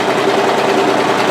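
An overlocker stitches along a hoodie drawcord with a steady, loud, continuous mechanical whir that holds even throughout, with no voices.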